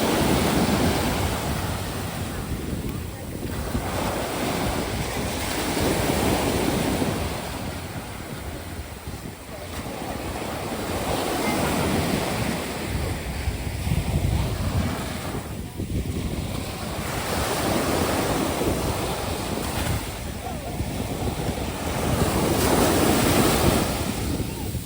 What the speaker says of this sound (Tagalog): asahan nyo talaga na malalaki ang mga alon kasi nga surfing capital